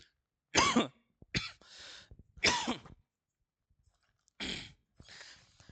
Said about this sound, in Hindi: बेटा खांसी उठ गई